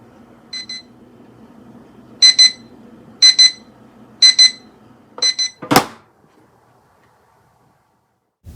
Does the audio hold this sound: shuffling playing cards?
no